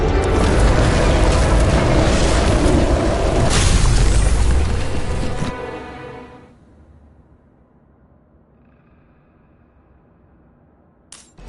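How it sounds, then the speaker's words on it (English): An explosion from a flooded transformer that caught fire in the video game Nobody Wants To Die: a loud, rumbling, broadband roar that sustains for several seconds, then drops abruptly to near silence, with a sharp click at the end. "That's what caused the explosion."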